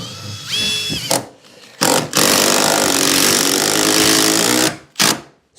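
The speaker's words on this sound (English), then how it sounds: "Screwing down through the thermal brake." Power driver screwing fasteners down through a thermal brake while fitting garden room doors and windows: a sustained loud whirring run of a few seconds after short bursts, close up, with no talking.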